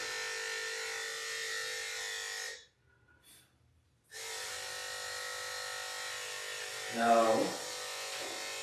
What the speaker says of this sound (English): Don't get the clipper.